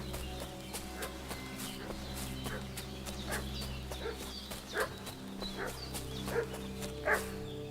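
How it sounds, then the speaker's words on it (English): In Kingdom Come Deliverance II, a village dog barks in scattered, fairly distant bursts over a low outdoor ambience that includes hints of other farm animals. "What's that dog making such a fuss about?"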